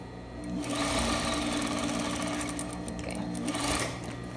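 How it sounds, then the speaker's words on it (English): Sewing machine stitching a skirt seam down to the hemline, a continuous close, fast mechanical whir with rapid needle ticking that runs steadily for several seconds before easing off. "you're going to sew all of the way down to the hemline, always maintaining the 3/4 seam allowance"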